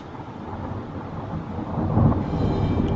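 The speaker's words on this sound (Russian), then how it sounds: "вот это да, гром гремит" Thunder rolls in a long, deep rumble during an evening storm outside a house, swelling louder toward the end, with a faint hiss of rain underneath.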